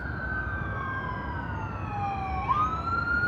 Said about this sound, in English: I just hear their sirens. Oh, they're right. It's an ambulance.